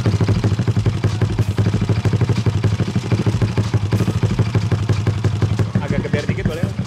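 A modified Yamaha Lexi scooter engine, bored up to 200 cc, idles close by with a fast, throbbing, uneven putter, loud and steady throughout.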